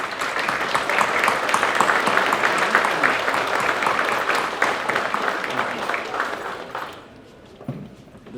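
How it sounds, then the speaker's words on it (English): Sustained crowd applause at a fire academy graduation, a dense field of clapping hands that holds for several seconds before tapering off, leaving a few scattered claps and quiet room noise. "Let's give them a round of applause."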